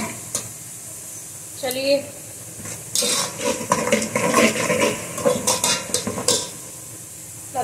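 Garlic and ginger sizzle as they are stirred into a frying pan with onions while white pulao is cooked for Eid, with spoon scrapes and clatter over steady frying hiss and a voice speaking briefly.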